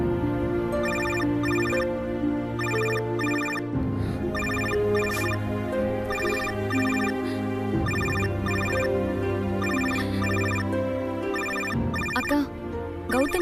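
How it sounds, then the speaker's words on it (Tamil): A mobile phone ringtone plays a loud, repeating melodic tune over and over without pause for an incoming call in a Tamil television serial scene, clear and close. "அக்கா, கௌதம் கால் பண்றாரு"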